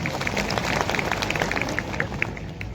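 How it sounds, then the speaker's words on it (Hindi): Dense crowd applause at an outdoor World Tribal Day rally in Dungarpur, with a tent and stage, as many hands clap steadily and continuously at an even level throughout. "उसके लिए सबसे पहले आप ताली बजा के अभिवादन करिए"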